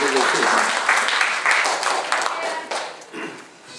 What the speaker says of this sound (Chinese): 来给他这边掌声